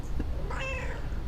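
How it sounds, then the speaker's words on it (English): A cat lets out a single clear meow, close and fairly loud over a low background hum. "Oh, cat."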